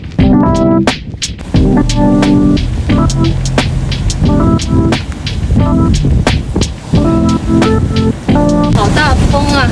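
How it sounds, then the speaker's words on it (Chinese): Strong wind buffets the microphone at a seaside spot in a small coastal town in Puglia, southern Italy, a loud, steady roar with surf-like rushing, while people talk over it. "好大风啊！"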